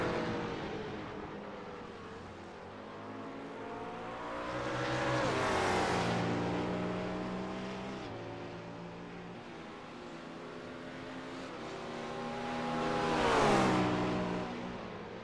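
Race cars lapping Watkins Glen during a racing stream, engines droning at mid distance and swelling into two louder passes around five and thirteen seconds, with shifting engine tones and no voices.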